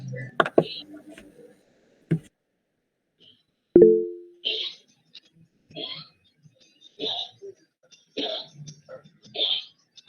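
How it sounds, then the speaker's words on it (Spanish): A Basset hound gives a few harsh coughs and a gagging retch, separated by silences, with a person speaking between them. "La primera de ese perrito Basset es una tos suave"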